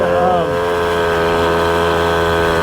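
A Garelli SuperSport moped engine idles a little high, running in a steady, close drone with even harmonic tones throughout.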